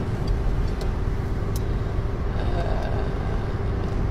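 A car interior while driving in the rain, with a steady, loud broadband road and engine rumble filling the whole stretch and a few faint ticks, presumably raindrops, on top; no talk.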